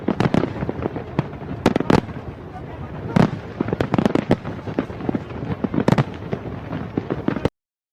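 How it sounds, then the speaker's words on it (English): AI-generated fireworks explode in rapid, loud bursts and crackling pops, one after another, for several seconds before cutting off sharply. "Every firework explosion in the air keeps the time really accurate between those actions."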